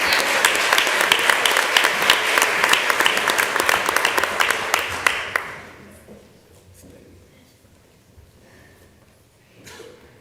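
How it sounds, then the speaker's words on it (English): Audience applause at a school board meeting: dense, steady clapping from a crowd fills the room for about five seconds, then cuts off abruptly, leaving quiet room tone with a faint stray sound near the end. "Can I give a round of applause?"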